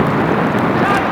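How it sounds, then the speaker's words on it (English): Steady, broadband wind roar buffeting the microphone throughout, loud and continuous, with a voice faintly present underneath, during a rainy outdoor field lacrosse semi-final. "You can tell it's windy, it's raining, it's a little bit of everything."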